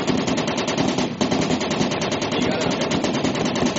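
Rapid sustained automatic gunfire in the video game Squad, a dense stream of close, loud shots that continues almost unbroken, with a brief gap near the middle.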